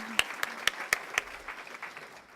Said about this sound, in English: if we could just clap for those three, for me, I'd appreciate it